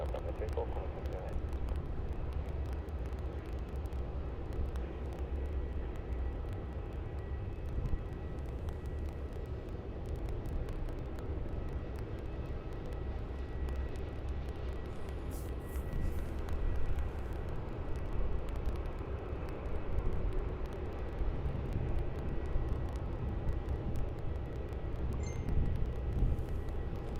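Qantas Boeing 737 taking off at Melbourne Airport, a sustained distant jet roar swelling slightly in the second half, with talk and radio chatter over it.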